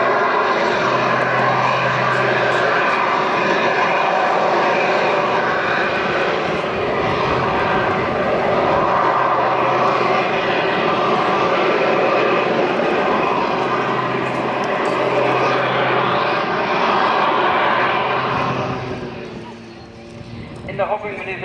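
A piston-engine propeller aircraft hovering at an airshow, its loud continuous engine drone and propeller roar filling the air while a commentator talks over it, fading slightly near the end.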